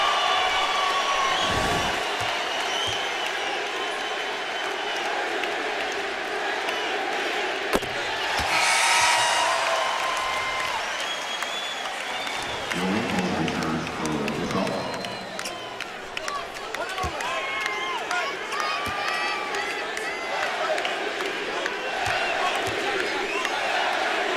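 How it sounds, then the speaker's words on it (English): A dense, continuous roar rises from a basketball crowd at Staples Center as Kobe Bryant steps to the free-throw line in his final game, Lakers against the Utah Jazz, with swells of cheering throughout. "We'll let you listen to the crowd here at Staples as Kobe comes to the line"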